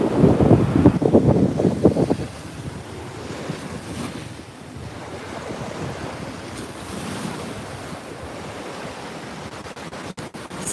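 Ocean surf breaking on a beach where grape-like sea plants grow, waves washing in steadily under strong wind buffeting the microphone, louder crashes at first then a continuous hiss of water.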